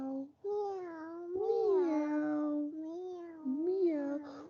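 A voice imitates a cat, repeating a drawn-out meow several times in a row, clear and close with short pauses between the calls.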